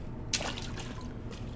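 Water drips in the video game Resident Evil 2, a single sharp drop landing near the start, followed by a couple of fainter splashes over a low ambient rumble.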